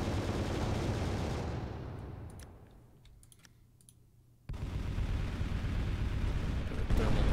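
Spaceship guns firing in the video game Final Theory: dense, loud rapid clicking bursts of weapon fire that fade into a quieter lull with sparse sharp ticks, then a sudden heavy barrage resumes at full volume, with no talk.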